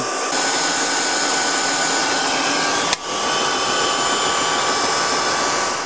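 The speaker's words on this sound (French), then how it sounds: "la brosse du Secotec à gauche, en mode économique, tourne beaucoup plus vite que la brosse du Tineco à droite" Brushes of Cecotec and Tineco wet-dry vacuum cleaners spin, giving a loud, steady motor whine and whoosh with a brief break midway, no talking.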